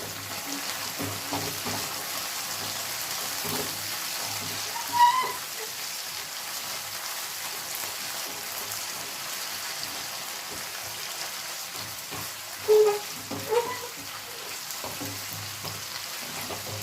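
Onion sautés in a pan for tomato chicken, giving a steady, low, gentle sizzle. Two brief utensil clinks break through, and no one speaks.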